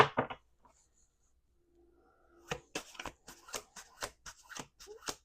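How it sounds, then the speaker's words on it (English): Close-up riffle of playing cards being shuffled, a quick run of crisp flutters and snaps after a brief quiet pause. "Sometimes these cards are a little hard to shuffle."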